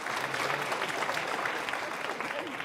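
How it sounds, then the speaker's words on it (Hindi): Hearty applause from the audience at a televised Holi comic poetry gathering as the poet Sundar Katariya is welcomed. Dense, steady clapping fills the short stretch with a faint murmur underneath. "एक बार जोरदार तालियां बजाकर सुंदर कटारिया जी का स्वागत करें।"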